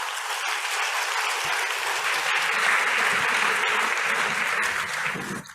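A conference audience at the World Health Summit claps loudly and steadily for the polio replenishment, a dense sustained wash of applause that holds for several seconds before tapering off at the end.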